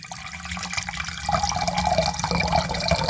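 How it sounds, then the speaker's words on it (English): Distilled water is poured steadily into a container, a continuous close liquid splash and trickle lasting a few seconds with no talking. "So I'm gonna just pour"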